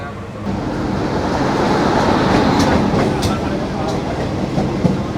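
A local train from Kolkata toward Nabadwip rumbles steadily from the inside, a continuous low roar with faint rattling and occasional clicks, loud and close throughout.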